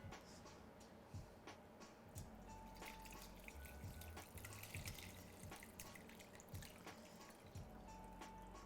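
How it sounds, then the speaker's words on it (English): Babbling-brook sleep sounds play from an Alexa smart speaker: a faint, steady wash of trickling water with scattered drips and small splashes running throughout, low in level. "hey, Alexa, play Babbling Brook sleep sounds"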